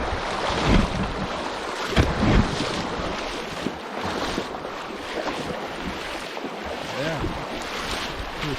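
Someone wades through a knee-high, fast-moving cold creek in the Grande Cache mountains, with rushing, splashing water and gusting wind noise on the microphone, and irregular louder surges as the legs push through.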